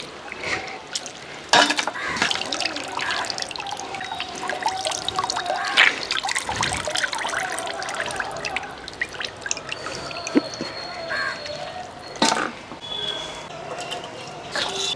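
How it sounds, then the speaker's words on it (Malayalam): Water trickles and drips steadily from washed raw chicken as it is squeezed out by hand while being prepared for chicken curry, with faint background voices at times. "നല്ലപോലെ കഴുകി വൃത്തിയാക്കി ആ വെള്ളം ഒന്ന് ഇതേപോലെ ഞെക്കി പിഴിഞ്ഞ് എടുക്കട്ടെ"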